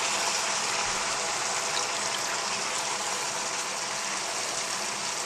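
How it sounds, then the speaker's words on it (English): Wet beet greens dropped into a hot pan with all their water, a loud steady sizzling hiss with watery bubbling that runs continuously for several seconds, close up and without talk. "we're going to pick up these beet greens and put them right in there with all their water"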